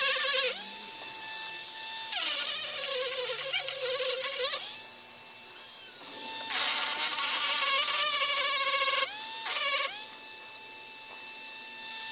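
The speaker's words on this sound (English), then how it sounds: "So I'm going to smoothen that out with a bit real quick so it doesn't snag on that when we put it in." A rotary tool bit grinds down a rough weld on a car part for an active toe eliminator install on a Galant VR4. It whines in several high, steady bursts of a few seconds each, with quiet pauses between them.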